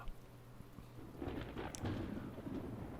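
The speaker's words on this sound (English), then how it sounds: "Ooh, that lightning sounded really cool." Low thunder rumbles in a steady rainstorm in the video game The Talos Principle, with rain pattering throughout and a sharp lightning crackle midway; quiet and distant-sounding.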